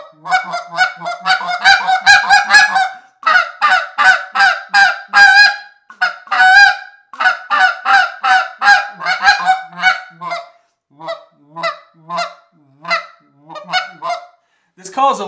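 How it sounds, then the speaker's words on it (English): Someone blows a Lynch Mob goose call up close in a room, sounding repeated rhythmic honking runs of clucks and moaning notes with short gaps between the bursts, alone and loud. "Let's give this call a toot and see how she sounds."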